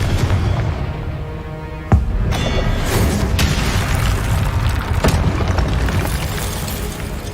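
Spell blasts from Hogwarts Legacy gameplay burst out in a dense, loud cascade of booms and crackling impacts, with a sharp hit near two seconds and another around five, over a continuous rumbling bed.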